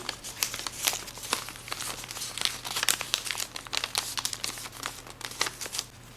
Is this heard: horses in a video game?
no